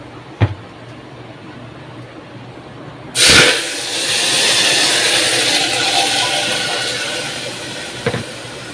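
Washed lentils and chopped bottle gourd drop into a hot pan with mustard seed tempering, setting off a sudden loud burst of hissing sizzle that settles into a steady, slowly fading crackle, with a faint tap before and after.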